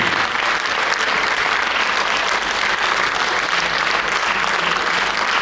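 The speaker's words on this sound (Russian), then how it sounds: "аплодисменты тебе" A concert crowd at a jubilee solo performance applauds steadily, a thick, unbroken roar of many clapping hands, loud and uniform from start to finish.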